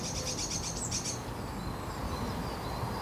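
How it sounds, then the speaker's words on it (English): A blue tit gives a short burst of rapid repeated alarm notes early on in a garden setting, fairly faint over a background hum, followed by quieter scattered calls. "The blue tit is given an alarm call"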